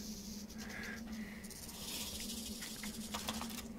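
A snake hisses in Far Cry 5, a steady, low-level hiss running through the whole stretch, with faint chirping and buzzing in the background and a constant hum underneath.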